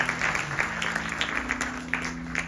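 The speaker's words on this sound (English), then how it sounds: "Give Mata a round of applause." Audience applause for Mataji at a Ganesh Chaturthi Utsav gathering; dense, steady clapping from the crowd with sharp individual claps standing out, accompanied by a sustained low musical drone underneath.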